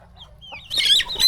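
Rooster in a village yard giving a short burst of clucking, a faint call followed by louder, close clucks over about a second.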